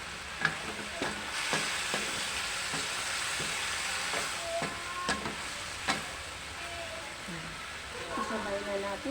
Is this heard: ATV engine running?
no